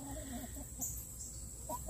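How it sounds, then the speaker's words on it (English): Chickens eating a piece of watermelon give a few soft clucks, faint and close, over a quiet outdoor background hum. "there's a piece of watermelon that Jeff threw in there for the chickens"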